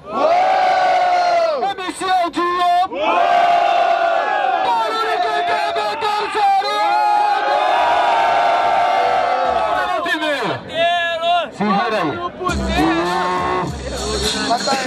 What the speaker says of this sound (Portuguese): Barulho para quem gostou mais da rima do MC Nego Drama